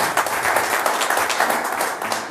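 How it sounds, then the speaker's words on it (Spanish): Audience applause welcoming a speaker at a community talk in Ecatepec, a steady, dense wash of clapping that holds at an even level for its full length with no voices on top. "quisiera que lo recibamos con un fuerte aplauso"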